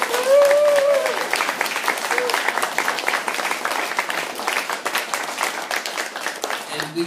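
A book club audience gives a special guest, author Michael Breen, a loud round of applause, steady crowd clapping that follows a short tone at the start and continues without a break.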